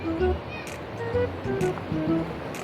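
A river runs again after rain, its rushing, surf-like wash of water steady beneath someone talking throughout.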